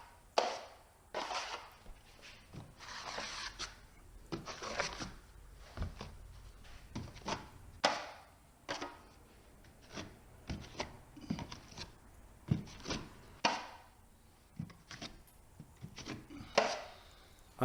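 A drywall knife spreads and scrapes joint compound across a wall in a skim coat. Short rasping strokes repeat at a steady, uneven rhythm, each a brief gritty scrape, fairly quiet and close with no talking.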